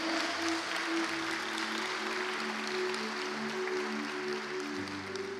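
A church congregation claps together during a Sunday morning service, a dense, steady wash of applause lasting several seconds at moderate distance, with a low sustained tone beneath it.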